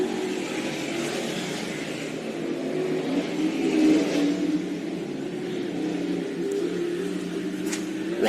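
Sportsman modified race car lapping a track at Glen Ridge during a CDRA race, a steady broad engine roar with gentle rise and fall heard from a distance, no voices over it.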